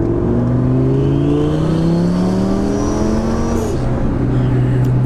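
A twin-turbo Lamborghini accelerates on a drive, its engine note climbing steadily in pitch over several seconds, loud and close throughout, with a brief shift and the whine continuing at low boost.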